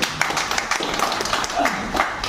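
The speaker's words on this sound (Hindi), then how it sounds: "एक बार बहुत जोरदार तालियां" A seated audience claps at a gathering, scattered uneven hand claps of moderate loudness, mixed with faint voices in the background.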